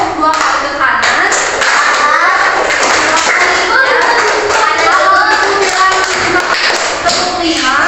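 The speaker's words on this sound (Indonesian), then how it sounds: "Tepuk dua kali ke kanan" Schoolchildren clap in short rhythmic sets as a class, the claps blending with children's voices and movement throughout a noisy classroom.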